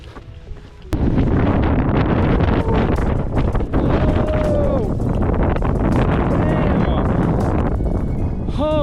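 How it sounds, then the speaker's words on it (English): Sudden whirlwind gusting across a mountain summit near Boundary Peak, a loud, continuous roaring rush of wind buffeting close to the microphone for several seconds, with a voice talking over it. "Oh, a tornado. I hear it again."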